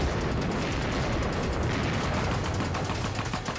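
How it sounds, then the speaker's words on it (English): An artillery bombardment opens at dawn in thick winter fog, a barrage of dense, rapid overlapping booms and cracks. It roars continuously and loudly throughout, with no voices. "Never heard so much artillery in our lives"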